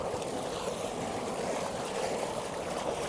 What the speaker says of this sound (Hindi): खुला पानी है लेकिन इसका प्रेशर इतना ज़्यादा है ना पानी का